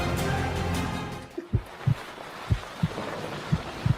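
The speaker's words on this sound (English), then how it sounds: "Heartbeat." A heartbeat thumps in steady, evenly spaced low pulses after a dull, noisy opening, each beat soft and close with a faint double-knock quality.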